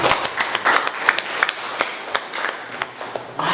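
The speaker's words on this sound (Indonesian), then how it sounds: "kalau seperti itu tepuk tangan buat kita semua" Students in a classroom applaud together. The clapping is fairly close, with uneven individual slaps over a soft, continuous patter, and it lasts only a few seconds.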